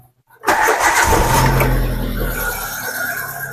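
A car's SOHC engine cranks and catches after a short silence, then settles into a strong, steady idle close by.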